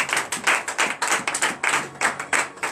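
A church congregation claps together in acclamation during a Monday morning prayer service in Benin, with fast, dense, irregular hand claps close by and no talking.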